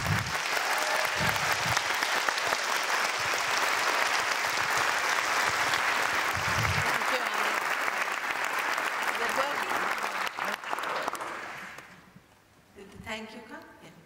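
A seated audience breaks into sustained applause to welcome an environmental activist at a talk on real food and farming, loud and steady for about twelve seconds before fading, followed by a brief voice.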